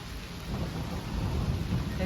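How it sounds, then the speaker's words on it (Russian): A heavy rain downpour roars steadily in a forest during a summer trip, with a low rumble of thunder underneath, dense and continuous at moderate distance. "Ливень."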